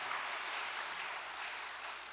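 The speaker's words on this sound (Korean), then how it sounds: "감사의 박수 올려주시면 감사하겠습니다" A congregation at a church farewell service applauds in a steady, dense wash of clapping that fills the hall evenly from start to finish, with no voices heard over it.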